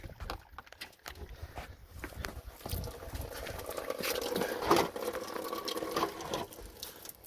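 Diesel fuel drains from an opened fuel bowl on a 7.3L Powerstroke engine, a steady close patter and splash of liquid that swells and continues for several seconds, with no voices.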